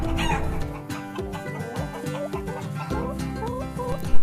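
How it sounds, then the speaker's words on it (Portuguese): Farm chicken clucking, a run of repeated rhythmic clucks over a dense, loud tonal backing. "Galinha, chicken."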